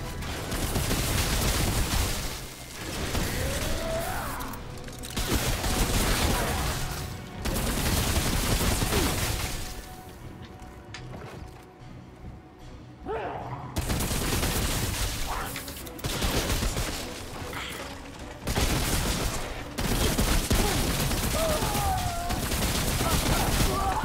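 Video-game automatic rifles fire in long, loud, rattling bursts separated by short lulls, with occasional booms and a voice talking now and then.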